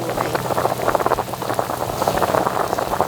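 A pot of Isan-style sour fish soup with tamarind boils hard, making a dense, continuous bubbling and popping close up that sounds a little like rain pattering.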